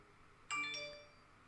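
A bright two-note notification chime rings out once, clear, close and fairly quiet, its ringing tones fading over about half a second against a silent background.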